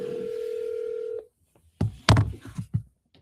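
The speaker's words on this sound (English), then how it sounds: "We call him on the cell phone?" A cell phone on speakerphone holds a steady dial tone for about a second, then cuts off. Short clattering handling noises and blips follow as the call is placed.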